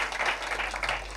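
Studio audience applauding a DJ guest on a live French-language variety broadcast, a steady wash of clapping that fills the whole brief moment without a break.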